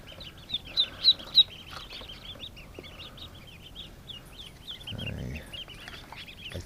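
Newly hatched ducklings peep in a busy cluster, high thin chirps overlapping close by, with a few louder calls at the start and a brief rustle and low voice later.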